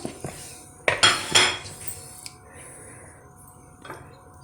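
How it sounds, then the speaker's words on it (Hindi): Small boneless chicken pieces, about half a kilo, tipped into a bowl in a home kitchen, with a few sharp clinks and clatters of dish and utensil followed by quieter settling sounds, close by and without talk. "इसको मैं बोल में डाल रही हूँ।"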